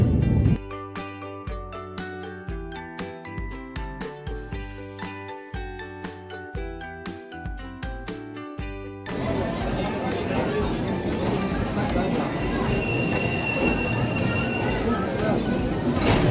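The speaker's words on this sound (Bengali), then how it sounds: "এই ট্রেনটা, যেটা এখন যাচ্ছে দেখতে পাচ্ছেন আপনারা" A passenger train moves past a railway station platform as a continuous, loud rolling rumble that fills the second half; someone talks over it, and rhythmic music plays beforehand.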